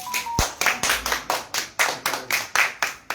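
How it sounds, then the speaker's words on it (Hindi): A small audience at a poetry gathering in Bisalpur claps in a steady rhythm, about ten firm, evenly spaced beats, close and fairly loud, after a short tap at the start, with no talking over it. "जोरदार तालियां सब लोग बजाइए।"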